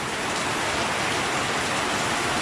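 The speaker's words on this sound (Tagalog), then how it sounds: "Umulan na naman." Steady heavy rain pours down during roof work on an inside gutter, a dense, loud, unbroken hiss that fills the whole stretch with no voices over it.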